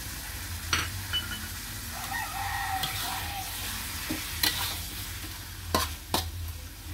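Tofu and eggs balado being stir-fried in a pan right after spring onions go in: a steady low sizzle with scattered sharp scrapes and clatters of a spatula against the pan, no talking.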